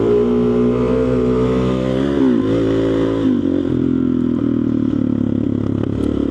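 A motorcycle accelerates in first gear, its engine note climbing loud and close, dipping briefly at a shift-like break and then pulling on with a rough, steady drone.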